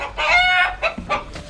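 Chickens in a village yard in Pakistan give loud, near clucks and a short crow-like call in a few quick bursts, with no talking.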